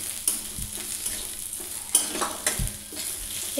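Chopped onion and garlic paste fry in a pan, a steady close sizzle broken by repeated stirring scrapes and a couple of low thuds.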